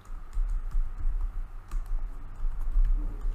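Computer keyboard keys clatter in a quick, steady run of close, light clicks and taps, continuous and alone without talking.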